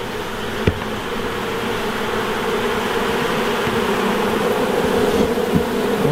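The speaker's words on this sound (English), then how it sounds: "Okay, there are a lot of bees on this." A dense cloud of honey bees hums steadily during an open-hive inspection, a close, continuous buzz that swells slightly toward the end, with a couple of faint clicks.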